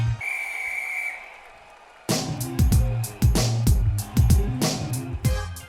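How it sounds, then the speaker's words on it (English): A single sustained whistle blast about a second long signals the start of the games, and then a thumping hip-hop beat with punchy drums kicks in. "on the sound of the whistle, let the games begin"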